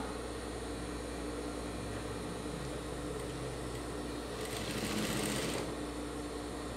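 A sewing machine runs steadily close by, stitching the lower seam of a simple fabric face mask, its whir unbroken and slightly louder for a moment near the end.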